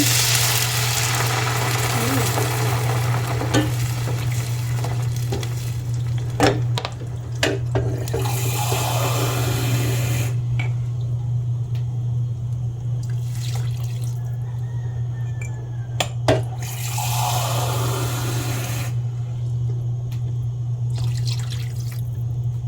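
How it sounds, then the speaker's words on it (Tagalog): Water is poured into a pot for sotanghon soup with shrimp, running and splashing in bursts with pauses between pours, over a steady low hum from a nearby appliance. "Tapos po, sunod ay lagyan na po natin ng tubig."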